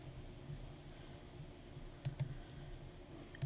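A few quick mouse clicks while pressing apply in an app, two close together near the middle and one more at the end, faint over a low steady hum.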